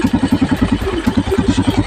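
A Rusi motorcycle engine that is hard to start idles roughly up close, its rapid thumping pulses faltering and stumbling midway before settling back into rhythm.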